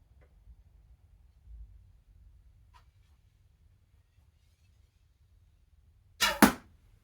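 An aluminium arrow loosed from a hand-made yew selfbow gives one sharp, loud release snap with a brief twang and whoosh near the end, after several seconds of near silence with faint low rumble.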